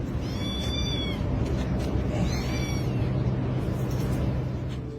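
A kitten meows in short, high, repeated cries, two clear bursts near the start and another in the middle, over steady low background noise.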